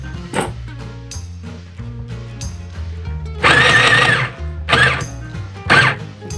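A mini sewing machine stitches fabric for a scrunchie on a low speed setting, running in loud bursts of rapid mechanical whirring separated by pauses, with a steady hum in between.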